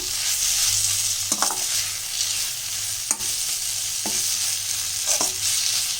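Tomatoes and onions sautéing in a pan for tomato rice give a constant close sizzle, broken by a handful of sharp spatula scrapes and knocks as they are stirred.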